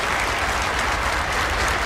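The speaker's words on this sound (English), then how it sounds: "And those claps, all those claps that just went on here, that's the American population." Audience applause from the 1994 film Quiz Show, a dense, steady burst of many hands clapping together, loud and unbroken for the whole short stretch.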